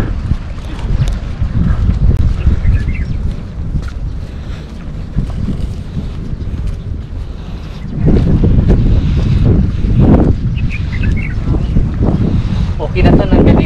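Wind gusts buffet the microphone on a breezy early-morning walk outdoors, a loud, rumbling roar that swells and eases throughout and grows stronger in the second half.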